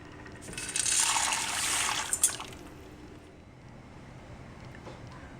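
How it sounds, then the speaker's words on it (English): Dry pinto beans pour into a pot of water on the stove, a dense rattling, splashing rush lasting a couple of seconds, then a quieter steady background. "I'm going to add my beans to the pot."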